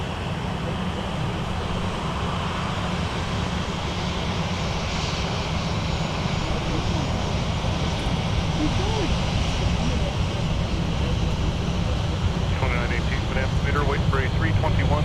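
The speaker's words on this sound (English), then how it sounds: "All right, here we go. They are cleared for takeoff." An airliner takes off from runway 12 right at MSP airport, its engines a steady, broad roar that holds and swells slightly throughout, with a voice talking over it.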